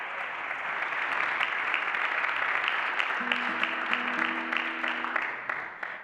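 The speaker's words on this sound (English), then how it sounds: "give her a round of applause." A live concert audience applauds for a guitarist, a dense, steady wash of many hands clapping that lasts several seconds and fades near the end, with faint scattered cheers over it.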